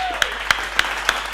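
A church congregation claps in a steady rhythm of four distinct beats, loud and close over a low hum.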